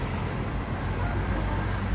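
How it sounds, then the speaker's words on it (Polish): A bus rolls past on a city street in Gliwice, giving a broad, steady roar of engine and tyres close by, with general traffic noise and no talk. "Patrz, pociąg. A nie, to autobus."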